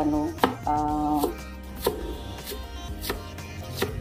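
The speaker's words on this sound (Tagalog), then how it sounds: "slice ko ng peno yung sibuyas guys para hindi siya kasing lang giniling" Knife strikes a cutting board in a run of sharp, evenly spaced chops while onion is sliced thin for lumpiang shanghai filling, close and clear over a low background hum.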